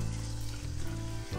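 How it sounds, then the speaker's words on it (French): Lentils with a big pinch of coarse salt sizzle and hiss in a hot pan as they are tossed, a close, steady frying crackle with brief shifts as the pan moves. "Lancez une bonne pincée de gros sel. Faites danser les lentilles."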